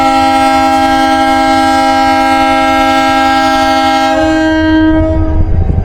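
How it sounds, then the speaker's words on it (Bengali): Jamuna Express diesel locomotive sounding a long, loud, continuous horn blast up close, the tone holding steady for about four seconds before wavering and cutting off into engine rumble. "এর হুইসেল তো দেখি WDM 3A এর মতো।"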